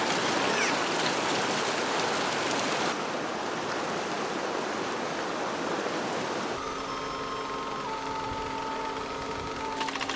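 A water wheel turns in a river in a Dong village of southwest China, lifting water into a network of bamboo tubes. Steady rushing water is heard alongside a creaking, ratcheting mechanical rhythm, and later a clearer, quieter wooden clatter with faint tonal hums.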